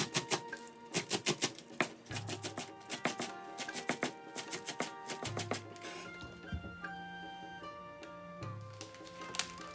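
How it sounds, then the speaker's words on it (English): Rapid knife chopping of green onion on a cutting board in quick rhythmic runs with brief pauses, close by, while music plays softly underneath. "Cut the green onion."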